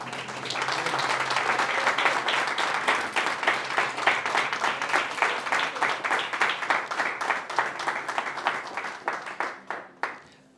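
A congregation at a church service breaks into applause, dense clapping that swells quickly, holds steady, then thins into scattered individual claps before fading out.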